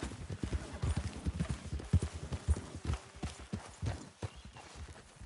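Horse hooves clip-clop in steady rhythm across the ground in Red Dead Redemption 2, a continuous close trotting beat with no voices over it.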